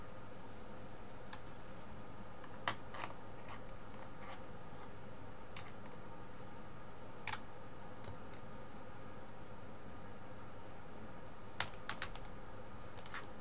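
MFTEK USB wired backlit gaming keyboard being typed on, sparse close key clicks and a few sharper strikes scattered over a quiet background.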